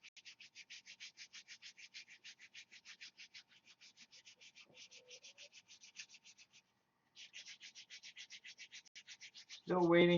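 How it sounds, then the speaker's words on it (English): Steady rhythmic sanding strokes on a wooden model-aircraft rudder, shaping an airfoil, rasping back and forth at an even pace, with a brief pause before a louder knock at the end. "I'm sanding an airfoil into this rudder"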